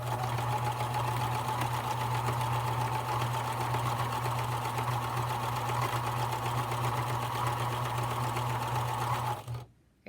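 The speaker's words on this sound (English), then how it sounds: "this edge for the hemming needs to get sewn down right across this line right here" A sewing machine stitches the hem along the top edge of a fabric bag, a steady close mechanical whir and rapid needle chatter running unbroken for about nine seconds before stopping abruptly.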